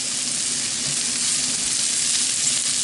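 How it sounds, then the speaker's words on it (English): Mushrooms sautéing in olive oil in a pan, a steady close hiss of frying with faint crackle and a little stirring, continuous and fairly loud with no voices. "I'm going to throw in some mushrooms because I had some mushrooms and I don't want them to go bad. And I'm going to saute those."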